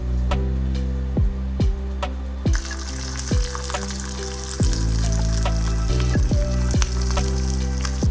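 Egg frying with turmeric pepper in a pan, a continuous loud sizzle with small ticking pops and occasional scraping clicks from cooking.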